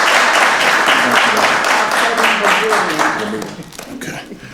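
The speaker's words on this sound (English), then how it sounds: "Give Noemi a round of applause." Applause from a seated audience at a county board of commissioners meeting, a dense wash of many hands clapping close by that tapers off near the end, with voices mixed into it.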